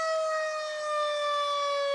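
A fire truck siren in a town parade holds a steady, loud wailing tone with strong harmonics, sounding continuously with a slight waver in level and no talking.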